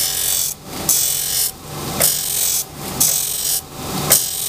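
A grinder rasps against a metal extruder knife blade, sharpening its cutting edge in repeated passes, roughly five strokes with brief pauses between, loud and close, with no talking.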